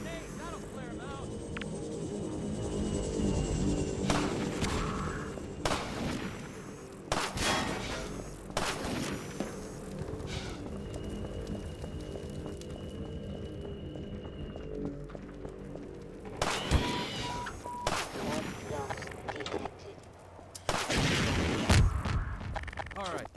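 Sniper gunfire and explosions in Half-Life 2: sharp shots and booming blasts break out at irregular intervals over a low hum, some close and loud, as voices call out between them.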